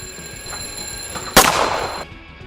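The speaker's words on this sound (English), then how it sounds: "This time we will discuss funny alarms that are effective in waking you up in the morning." A funny alarm clock ringtone plays as a steady electronic tone, then a sudden loud burst erupts and fades out before ending abruptly, no talking.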